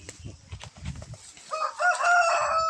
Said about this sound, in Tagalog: may manok dito bro